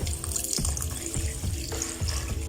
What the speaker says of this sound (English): So I've just added more water and I'll allow the meat to cook.